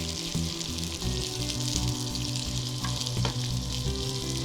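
Sliced onion lightly frying in oil with black pepper and a cracked black cardamom for chicken rezala, a steady close sizzle with stirring scrapes running throughout, no talk.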